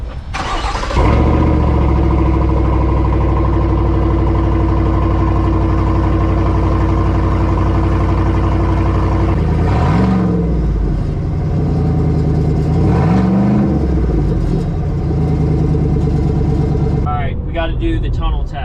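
A straight-piped Chevrolet Silverado ZR2 with a 6.2 liter engine fires up and settles into a loud, rumbling idle, then gives two sharp revs that rise and fall before voices chime in near the end.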